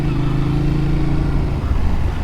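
A 2021 Yamaha MT-09 motorcycle on a test ride, its engine droning steadily and loud throughout, with a brief dip and surge near the end that suggests a gear change.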